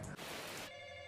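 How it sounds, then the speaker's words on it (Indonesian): A home telephone rings, a steady electronic trill that carries clearly with no talking over it. "Tiba-tiba telepon rumah berbunyi."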